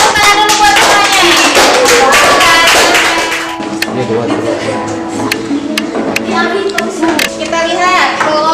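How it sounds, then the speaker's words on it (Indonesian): Seventh-grade pupils in a classroom clapping together, sharp rhythmic hand claps under loud children's voices and chatter, with the clapping thinning partway through. "Ya, tepuk tangan dulu buat semuanya."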